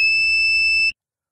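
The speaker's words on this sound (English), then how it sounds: "lift an empty bucket slowly and steadily through the trigger zone until you hear a beep" A Trimble LOADRITE loader scale emits a single steady electronic beep while zeroing, a clear high tone held for just under a second before cutting off into silence.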